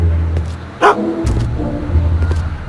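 A dog barks once sharply in the Back to the Future video game, a short loud yelp rising over low humming background music and ambience.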